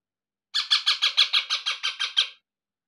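Baby parrots, young parakeets, squawk during hand feeding with split chickpeas: about eleven sharp, evenly spaced raspy calls in quick rhythmic succession, close and fairly loud, then silence.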